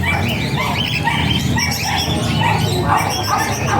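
Gamefowl roosters at a busy bird farm, with steady clucking and calls layered over a constant dense background of other birds, fairly loud and continuous throughout.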